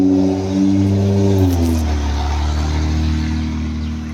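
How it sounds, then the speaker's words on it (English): A loud car passes close by a porch in Conway, its engine tone rising and then dropping as it goes, with a steady rumble that holds to the end. "I might have a little noisy car coming by"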